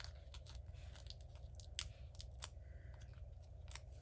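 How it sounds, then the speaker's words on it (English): Scissors snip through card during a paper-crafting project, a few short crisp cuts close by over a low steady hum, with no talking. "I think I want to cut one in half"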